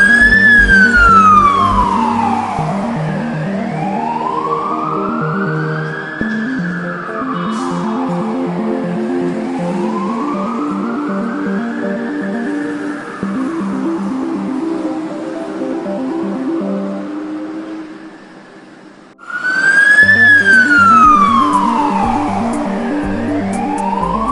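A Kanpur fire brigade fire engine sounds its siren close by and loud, a wailing tone that sweeps slowly up and down in long repeating cycles over a steady engine rumble, cutting briefly before restarting at full volume.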